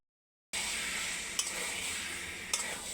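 Taro greens cooking with lentil fritters in a pan, giving a steady hiss of frying after a silent start, with two brief clinks of a spoon stirring against the pan.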